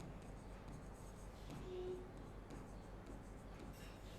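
Chalk or marker scratches across a board in short strokes as a teacher writes the words building fund, faint and close, with a low background hum.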